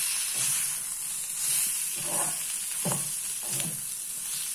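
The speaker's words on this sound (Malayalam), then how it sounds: "കായപ്പൊടി ഇട്ട്, ഒന്നുകൂടൊന്ന് ഇളക്കി നല്ല വൃത്തിയായിട്ട് വഴന്നു." Steady sizzle of bajji chilli chutney sautéing with asafoetida in a pan, close up, with soft stirring scrapes recurring every second or so.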